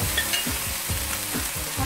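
Chicken stir-fries in a Salad Master pan with a bright, constant sizzle and a series of rhythmic scraping tosses, close and clear, no voices.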